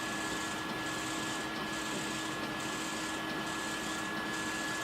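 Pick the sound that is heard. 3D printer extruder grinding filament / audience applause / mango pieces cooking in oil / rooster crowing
3D printer extruder grinding filament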